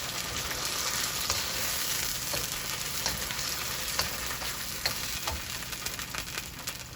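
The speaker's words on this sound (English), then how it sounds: "So now we take in the spoon to kind of break it up." A spoon breaks up canned jack mackerel in tomato sauce in a hot pan, with a steady close sizzle and frying hiss and faint scraping taps of the spoon throughout, no voices.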